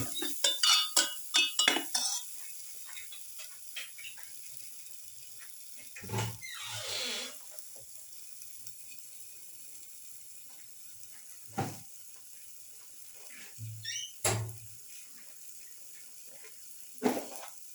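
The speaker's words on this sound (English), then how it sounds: "Caraway saute." Caraway seeds sautéing in a pan: metal utensils clink and scrape against the pan in quick bursts, with a few stirring sweeps and a faint sizzle beneath, close but fairly quiet.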